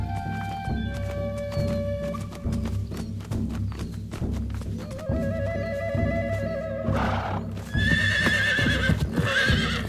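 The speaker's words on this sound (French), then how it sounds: "Les chevaux ont senti notre présence." Several horses whinny and neigh in repeated bursts, close by, over the clip-clop of hooves and occasional thuds, with a final shrill cry near the end.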